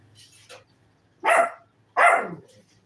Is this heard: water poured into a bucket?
no